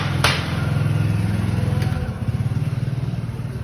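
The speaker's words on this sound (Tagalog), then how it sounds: "Pero gagamit tayo ng motor." A motorcycle engine carries a rider along, maybe near a shopping area, with a steady low throbbing drone that pulses slightly and stays close and fairly loud throughout, and a couple of brief clicks on top.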